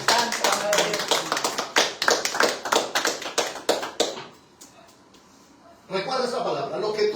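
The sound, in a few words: church congregation clapping hands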